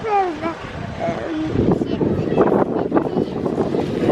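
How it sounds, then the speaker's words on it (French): Wind buffets the microphone with loud, rumbling gusts that swell and rustle, while voices are heard near the start. "Il y a du vent."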